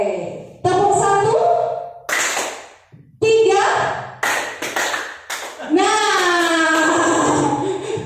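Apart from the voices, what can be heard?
classroom group counted clapping game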